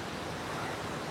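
Sea waves crashing against large rocks on a shore, a dense, even wash of surf that fills the short moment without a break.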